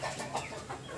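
Chickens clucking softly in short, scattered calls at a moderate distance, with steady background noise and no voices; the birds are a prized, costly breed.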